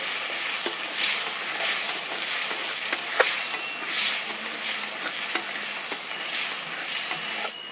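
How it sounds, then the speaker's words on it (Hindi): Masala frying in a pan for a banana curry, a steady loud hissing sizzle with repeated sharp ticks from stirring, close and continuous with no talk. "अब हम इसे मसाले को थोड़ा सा भून लेते हैं।"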